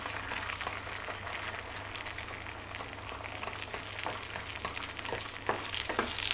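Egg sizzling in a hot pan while being stirred and broken up with a spatula for pork and Chinese sausage fried rice, a steady close frying hiss with scattered scraping taps throughout.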